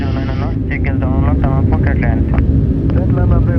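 An-124 Ruslan cargo aircraft during takeoff as the landing gear retracts, a loud constant engine roar in the cockpit under crew voices calling out.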